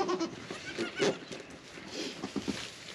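A goat on a farm gives a few short, moderately loud bleats at irregular intervals, with a faint, noisy background between calls.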